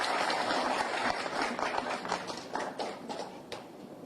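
Audience applause at the National Palace in Haiti greets President Jovenel Moïse, a dense, steady wash of many hands clapping with scattered sharper claps throughout, loud and continuous from start to finish.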